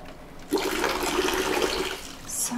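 Water poured over skin to rinse away soap during a bath, a steady splashing gush lasting about two seconds, close and fairly soft, alone without talk.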